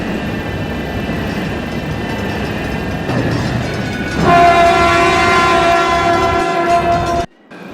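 A train arriving at Virginia Beach Station in the railway simulator game Trainz, a rumbling approach building up before a loud, sustained multi-tone horn blast that cuts off abruptly near the end.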